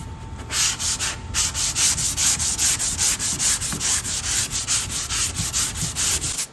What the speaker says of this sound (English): So we gotta keep sanding till that thing is like smooth